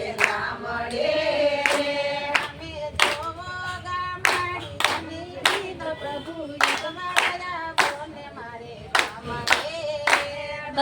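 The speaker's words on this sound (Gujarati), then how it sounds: "તાળી પાડો." A group of people at a satsang clap in steady unison, sharp regular claps over a background of sung melody.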